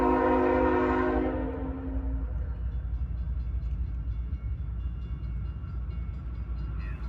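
CSX M352, a westbound autorack freight train over 9,000 feet long, storms through Deshler, Ohio. It opens with a loud horn blast lasting about two seconds, then settles into a continuous low rolling rumble of cars passing close by.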